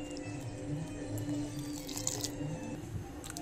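Water is poured or trickles into a cooking pot in a home kitchen, giving a soft, steady liquid splash heard at close range with faint clinks and no talking.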